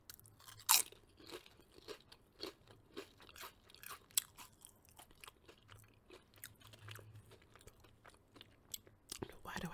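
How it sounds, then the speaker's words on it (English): Close, crunchy chewing of a buffalo chicken salad, with rapid irregular bites and crackles at whisper-quiet level and occasional louder snaps. "Why do I chew like that?"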